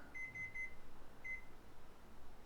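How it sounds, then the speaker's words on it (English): A kitchen timer beeps three times in quick succession, then once more after a pause before falling silent, the clear electronic tones sounding alone over a quiet room while baking. "So let me go ahead and shut off the timer."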